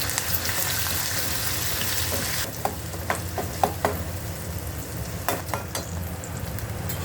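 Garlic paste and a little ginger paste hiss and sizzle steadily in hot oil in a pan for butter mushroom, a continuous loud fry with a few sharper spits and stirring scrapes partway through.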